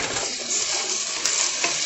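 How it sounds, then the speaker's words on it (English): Chorizo and potatoes sizzle and crackle steadily in a hot pan, with a couple of light clinks from the pan or a utensil. "we're going to let these potatoes fry"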